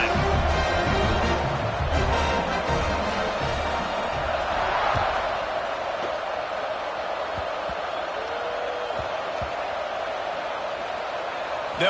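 Football stadium crowd at a Boise State versus Arizona State game roars continuously as the kickoff unit takes the field, a dense, loud wash of cheering and shouting that stays steady throughout, with commentary voices mixed in.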